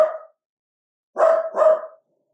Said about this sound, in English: for the dog barking.